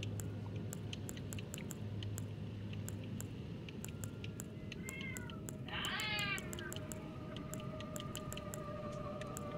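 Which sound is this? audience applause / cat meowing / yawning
cat meowing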